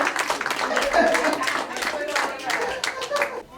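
Clapping and cheers from a small supportive crowd at a Bronx community radio forum, a short burst of applause near and lively with voices mixed in.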